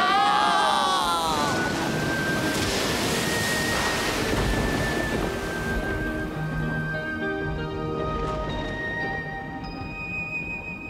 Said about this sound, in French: Il y a une horrible tempête là-haut!